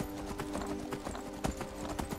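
A horse gallops in Skyrim, its hooves pounding in a quick, steady clip-clop rhythm, close and continuous with no break.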